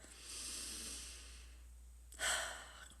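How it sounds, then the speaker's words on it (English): One slow, deep breath drawn in softly and released as a louder, breathy exhale near the mic, with quiet room tone around it. "So take a deep breath"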